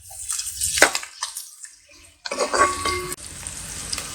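Sliced onions for a village-style farm chicken curry frying in a pan, with bursts of sizzling and stirring scrapes, a louder steady sizzle in the second half, close and without talk.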